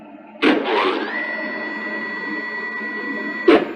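An APSX-PIM injection molding machine clamp travels back to its home position with a steady mechanical whir, bracketed by a sharp clunk at the start and another at the end, close and moderately loud with no talking.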